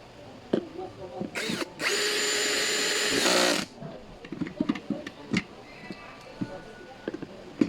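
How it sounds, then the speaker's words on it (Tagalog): A power drill tightens a bolt while an executive office chair is assembled, a single loud close whirring burst of about two seconds among light clicks and handling taps. "Ngayon, higpitan na natin yung bolt."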